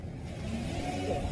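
A hit-and-run car speeds away from a stop light after striking a vehicle, its engine a steady, close, loud rushing roar as it accelerates.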